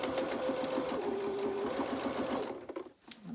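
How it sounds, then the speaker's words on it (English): A sewing machine stitches fabric at a fast, even rhythm, briefly reverses to tack the stitches, then stops with a few faint clicks; close and clear, no talking. "Reverse at the back and just to tack those stitches, edges down."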